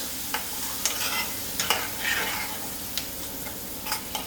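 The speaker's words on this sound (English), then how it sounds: "now is when you're going to hit that and stir, just to move it around a bit" Homemade chili oil is stirred in a pan over a constant soft sizzle, with a spoon scraping and clinking against the metal in irregular strokes, close by and with no talking.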